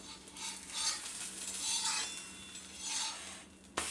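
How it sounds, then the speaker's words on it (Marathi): Vegetable breakfast patties roast in a pan, giving a soft steady sizzle broken by gentle scraping and stirring of a spatula, with a brief clink near the end. "मी आता असे भाजते अशा पद्धतीत जरी केलं तरी चालेल"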